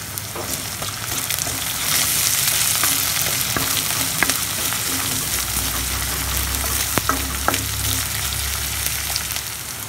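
Capsicum fries with onion for street-style egg parotta, a loud continuous close sizzle punctuated by sharp metallic clicks and scrapes of the stirring spatula, without speech.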